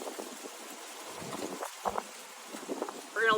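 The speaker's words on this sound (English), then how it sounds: "We're going to let the wind have its say for a second here." Gusty wind on a fall day buffets an outdoor microphone, giving a low, uneven rumble that swells in soft bursts and stays fairly quiet throughout.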